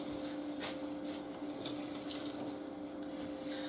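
Water pours steadily into a bread dough mixer while making a wholegrain multigrain loaf, a continuous close rushing flow with a faint mechanical hum underneath and no voices.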